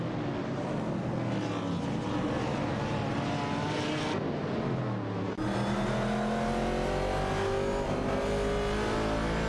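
Race car engines roar in an AI racing video game, a McLaren 9TC battling a BRM Chevrolet, with continuous high revving whine that shifts pitch sharply as cars pass, loud and unbroken throughout.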